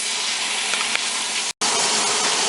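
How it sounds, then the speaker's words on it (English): Steady, dense hiss of sausage sizzling in a pan, loud and close, with a brief near-silent break just past halfway before the crackling resumes. "Please excuse the sound of the sausage sizzling."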